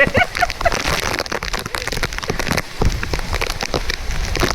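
Heavy rain pours steadily at a cool hill spot near Lanja, a dense, continuous patter on surfaces close by, loud and even throughout, with a faint voice briefly underneath.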